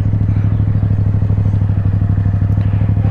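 A stunt-riding motorcycle engine runs close and loud at a steady, throbbing pitch throughout, with no clear gear change or rev swing standing out.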